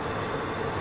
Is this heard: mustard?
no